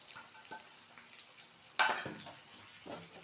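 Curry leaves hit hot oil with onion and green chili in a pan for a tomato kootu. There is a soft, quiet frying crackle, one sharp sizzle burst near the middle, and faint stirring clicks.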